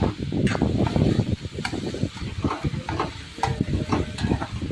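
Chopped onion fries and is stirred in a pan over a full gas flame, a busy steady sizzle broken by frequent scraping clicks of the spoon, close and fairly loud with no voices.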